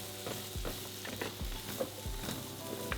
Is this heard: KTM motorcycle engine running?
no